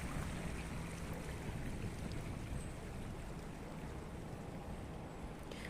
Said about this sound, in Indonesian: Ini aliran air begitu gemericik di tempat ini.